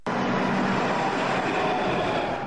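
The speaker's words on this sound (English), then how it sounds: "A sleek new train system started rolling almost 2 years ago in Phoenix, Arizona" A Phoenix, Arizona light rail train passing close by, giving a loud, steady rolling roar for the whole brief moment.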